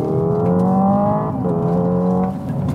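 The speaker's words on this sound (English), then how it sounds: "If I put my foot down, it'll actually drop a gear or at least simulate that" Hyundai IONIQ 5 N electric car in normal mode producing a synthetic engine note under hard acceleration, a steady loud drone that drops sharply in pitch twice as a simulated dual-clutch downshift, close and continuous with no talk.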